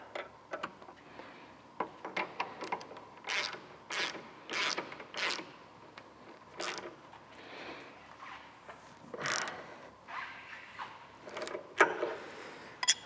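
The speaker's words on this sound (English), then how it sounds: "And then our top bolt, need a wrench to hold that big nut." Wrench on the big nut of a top shock bolt on a Harley Low Rider S, giving sparse clicks and ratcheting creaks in irregular bursts, close and moderately quiet.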